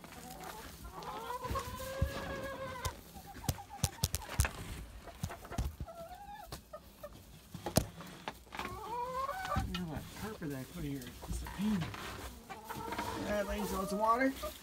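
Homestead chickens cluck and murmur in their coop, soft and close, with occasional louder squawks and a person speaking over them.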